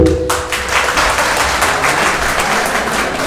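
A crowd at a Paris diaspora celebration of Guillaume Soro's 50th birthday breaks into loud, sustained applause. The clapping is dense and continuous throughout.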